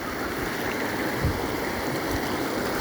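A large river rushes past close by, a steady, loud, broadband roar of flowing water with no pauses, heard alone.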